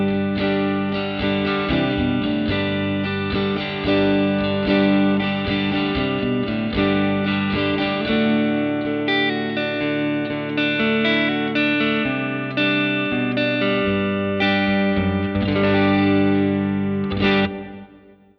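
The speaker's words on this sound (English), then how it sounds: "So I'm using the mail order twin amp, which is like a Fendery type thing." Electric guitar played through a Fender-style Mail Order Twin amp model with always-on pedals, ringing out in a steady stream of clean, chorused, effect-laden chords and notes for about seventeen seconds, loud and alone before fading at the end.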